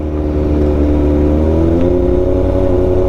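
A Kawasaki Z1000 motorcycle engine runs steadily close by, its tone climbing gradually as the revs rise, a smooth continuous drone with no voices over it.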